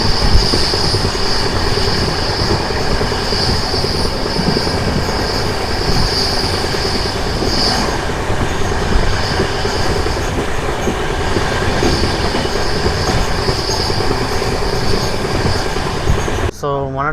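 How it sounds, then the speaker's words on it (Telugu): The Nanded–Tirupati special train rolls along the rails with a loud, steady rumble, a sustained high wheel squeal and faint rhythmic clatter throughout, up close. "సో మన ట్రైన్ వచ్చేసి జమ్మలమడుగు అయితే వచ్చేసింది."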